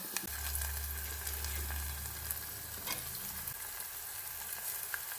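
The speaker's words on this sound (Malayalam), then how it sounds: "ഉള്ളി വാടി വന്നിട്ടുണ്ട് അതിലേക്ക് ഞാൻ എരിഞ്ഞിട്ട പച്ചമുളകും വെള്ളുള്ളി ഇടുന്നുണ്ട്" Onion frying in a pan with green chillies and garlic just added, a steady close sizzle with occasional stirring scrapes, loud and continuous throughout without talk.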